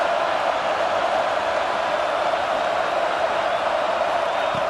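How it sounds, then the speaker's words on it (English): Stadium crowd at a Florida State versus Ohio State football playoff game, a steady loud roar of cheering voices that stays constant throughout with no individual voices standing out. "It's early, but this crowd is fired up. Listen to this noise here."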